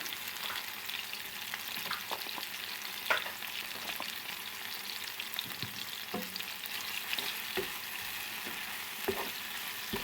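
A spoon stirs thyme and rosemary into melted tomatoes in a frying pan, giving a continuous soft sizzle with scattered scraping and clicking strokes, close and with no voices.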